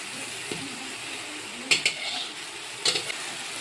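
Meat masala frying in a pan with a steady hiss and sizzle as hot water goes in, broken by a few sharp scraping stirs and clinks of the spoon against the pot, no talk.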